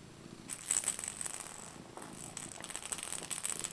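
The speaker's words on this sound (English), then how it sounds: "You can listen closely and hear him purring." A soft, steady purr from a cat close by, with a faint rattly texture that continues throughout at low volume.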